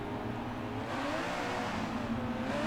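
A modern sports car powers out of a crossover on a test track, its engine note rising steadily under acceleration with a whirring, continuous roar close by and no voices.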